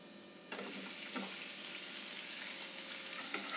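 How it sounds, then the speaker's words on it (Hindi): Chopped taro (arbi) hits a pan of roasted masala with a steady, close sizzle and hiss, broken by a few soft scraping stirs; no one speaks. "अब इसके अंदर हम कटी हुई अरवियाँ डाल देते हैं"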